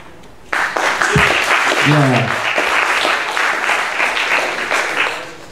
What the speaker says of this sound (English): Give him a round of applause before he gets the award.